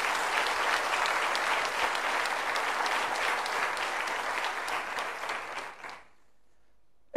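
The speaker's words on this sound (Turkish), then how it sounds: "Bravo, bir alkış alalım." Warm, dense studio-audience applause on a quiz show runs steadily for about six seconds, then stops abruptly into near silence, followed by a sharp click at the very end.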